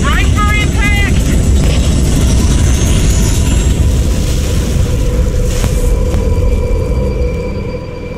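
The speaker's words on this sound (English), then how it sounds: "We're coming in too fast! Damn! Air brake failure!" An aircraft crash-lands in the Halo video game, with a loud, continuous engine roar and rumbling wind noise throughout, a few short tonal alarm-like beeps near the start, and the roar easing slightly at the end.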